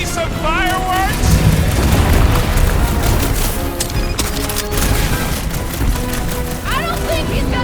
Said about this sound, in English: Bust out the smart bombs!